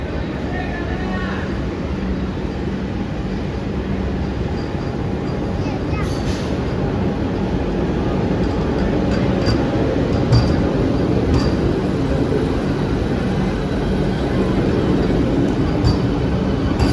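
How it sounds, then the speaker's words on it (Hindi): The Vande Bharat Express pulls out of Kanpur Central, heard from inside as a loud, continuous low rumble with faint clinks and rattles throughout. "कानपुर सेंट्रल से वंदे भारत एक्सप्रेस निकल चुकी है"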